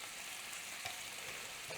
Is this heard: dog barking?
no